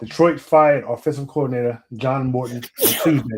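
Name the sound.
sneeze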